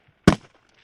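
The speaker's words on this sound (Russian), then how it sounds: "Выстрел за выстрелом, участники все ближе к цели." A single sharp gunshot cracks out close by on a shooting range during a military-sports game, a brief loud burst followed by quiet.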